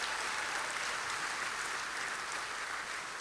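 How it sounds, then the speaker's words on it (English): A steady, dense round of applause fills the room at an alumni banquet, even and unbroken, with no voices on top. "Give him a round of applause."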